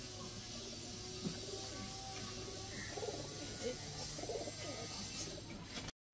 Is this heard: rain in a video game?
no